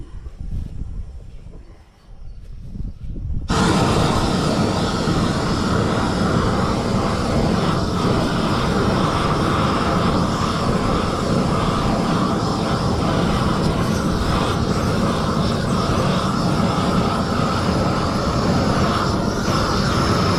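A propane weed-burning torch over a pond lights with a sudden onset, then roars in a loud, steady, broadband rush that holds without pause, heard close with no talking.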